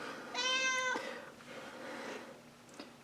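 Indoors, a cat lets out one clear, drawn-out meow close by, followed by quieter room noise and a faint second sound near the end, with no speech.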